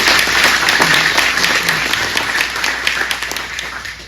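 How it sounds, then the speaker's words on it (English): An audience at a Republican candidates' evening event gives loud, dense applause with many individual claps. It is close and full at first, then gradually thins slightly over four seconds. "could you please give Grants an applause"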